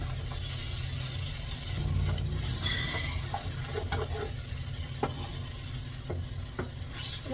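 Tomatoes sizzle and fry in a pan of biryani masala while being stirred, a dense, steady crackle with scraping stir strokes and small pops throughout, close and alone.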